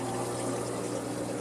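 Return pump in a tank setup with a float valve and RO top-off, pushing water in a steady, close gurgling rush over a low constant hum, with no talk.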